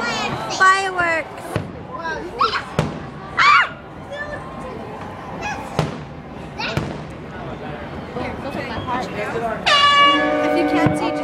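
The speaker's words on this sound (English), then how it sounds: "Fireworks." Fireworks burst in a series of sharp, scattered bangs at a celebration, mixed with excited children shouting and cheering close by and a horn-like blare near the end.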